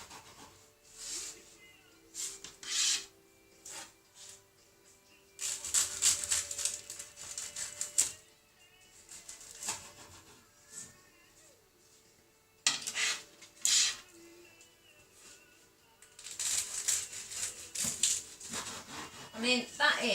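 Knife sawing through baked sausage rolls in short bursts of gritty crunching and scraping, with quieter pauses between cuts and faint knocks on a board.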